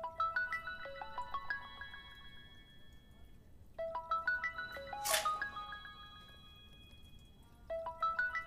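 A phone ringtone rings unanswered, repeating a chiming melodic phrase three times with short gaps between them, fairly faint and distant, with a single sharp click partway through.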